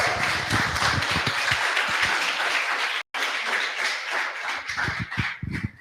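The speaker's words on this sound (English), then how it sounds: "so a round of applause." An audience applauds at a coding bootcamp demo day in Lisbon, dense clapping filling the room for about three seconds, a brief break, then more scattered claps trailing off.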